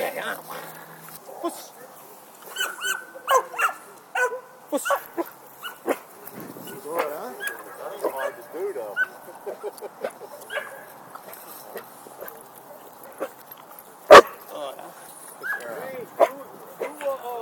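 At a breed show, a dog gives scattered short yips and barks, with one sharp loud bark near the end, while a handler talks throughout.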